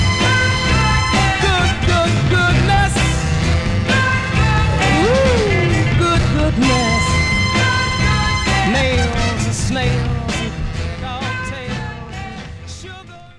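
A 1967 soul song on an MGM vinyl record, with a full band and sung vocals playing loud and steady before the music fades out toward the end.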